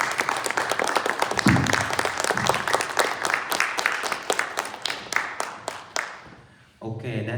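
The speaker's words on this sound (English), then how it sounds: "Let's give a big round of applause for our panelists." Audience at a town hall applauding panelists, a dense burst of clapping that fades out after about six seconds, with a voice speaking briefly during it and again once it ends.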